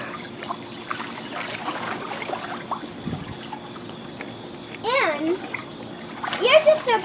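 Water splashes and trickles around a swimmer crossing a pool while a voice chatters throughout, with a louder splashing swell near the end.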